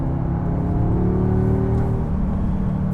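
A 2022 Audi S3's turbocharged engine drones steadily from inside the car as it accelerates, a smooth, moderately loud pull with a slight rise in pitch over a few seconds.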